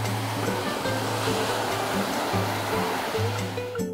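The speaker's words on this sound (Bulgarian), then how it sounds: "Намираме се на един от най-дългите плажове в българското Черноморие" Sea waves roll onto a long, wide sandy beach on the Bulgarian Black Sea coast, making a steady broadband wash of surf that continues without pause, with a constant low hum running underneath.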